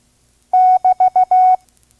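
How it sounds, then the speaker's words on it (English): Morse code double dash (BT) prosign sent as a clean sidetone at five words per minute: five loud, steady beeps in a dash-dot-dot-dot-dash pattern, two longer tones framing three short ones, alone with no talking. "The double dash sounds like the letters B and T run together as one character"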